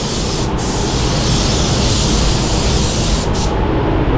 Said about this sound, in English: I'm going to just spray that over my edge here.